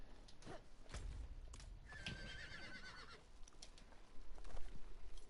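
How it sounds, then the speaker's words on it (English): A horse in a video game whinnies, with clip-clopping hooves and some creaking, all at low level and quite faint, with no talking. "The horse is still bugged as fuck"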